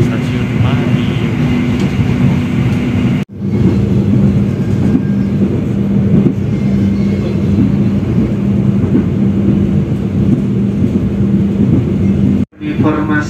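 Argo Wilis passenger train running at speed on the southern line near Madiun station, a steady loud rumble with a low tonal hum throughout, broken by two brief silent gaps, with an announcement voice faintly under the noise.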